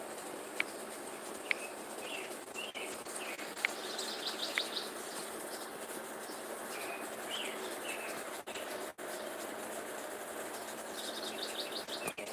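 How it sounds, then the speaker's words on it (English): Birds chirping in quick, high twittering bursts, some nearer and some distant, over a soft outdoor background hiss; no voices. "Hear the birds chirping."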